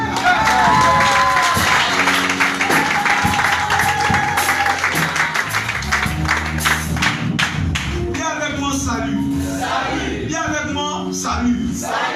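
Live studio audience at a French Christian talk show clapping and cheering loudly throughout, dense and sustained over a musical backing, with crowd voices rising in places.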